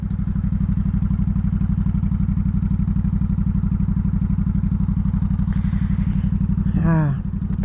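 A 2004 Honda Sabre 1100 motorcycle engine runs close by with a steady, even rumble and a regular pulsing beat, loud and continuous before a brief chirp near the end.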